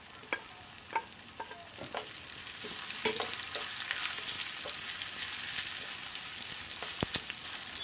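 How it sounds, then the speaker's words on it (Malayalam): Cashews and raisins frying in ghee for a payasam give a soft, crackling sizzle, punctuated early on by a few sharp clicks of stirring, then settling into a gentle steady fry. "നമുക്ക് അണ്ടിപ്പരിപ്പിട്ട് കൂടെ നമുക്ക് മുന്തിരിയും കൂടെ ഇട്ടൊന്ന് ചൂടാക്കി എടുക്കാം"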